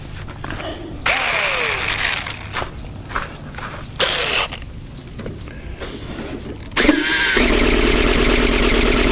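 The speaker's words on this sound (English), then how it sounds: "fire up that engine" A quarter-scale Balsa USA Fokker D.VII model airplane engine cranks in several short, loud bursts, then catches and settles into a steady, loud, close-up roar that runs to the end.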